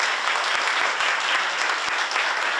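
Wedding guests applauding strongly at a civil marriage ceremony, a dense, steady burst of clapping held at full level throughout with no talk over it.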